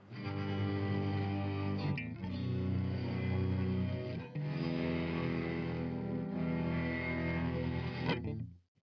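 Sustained, heavily effected guitar chords drawn out with a cello bow, swelling smoothly with brief breaks between three long, droning phrases before fading out.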